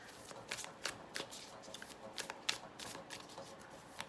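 Playing cards riffled and shuffled in hand, a run of quick crisp flutters and snaps repeating close by at moderate volume with no voices.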